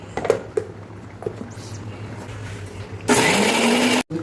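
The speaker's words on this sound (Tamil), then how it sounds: "4-5 முந்திரி, சோம்பு இப்போ இதை அரைச்சி ஊற்றணும்" A mixer grinder starts up and whirs at a loud, steady pitch, grinding coconut, fennel seeds and a few cashews, after a few soft handling taps; the motor cuts out briefly near the end, no talking.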